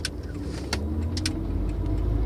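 A 1989 Honda Prelude Si on the move with a shifting problem, its engine giving a steady low drone alongside a few sharp clicks and knocks from inside the cabin.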